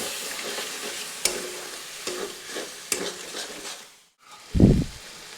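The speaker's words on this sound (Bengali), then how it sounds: "এখানে হালকা জল দিয়ে মশলাটি কিছুক্ষণ কষিয়ে নিচ্ছি।" Spice paste is sautéed with a splash of water in a pan, a steady close sizzle with scraping stirs, then a short quiet gap and a louder hiss as more water hits the hot pan.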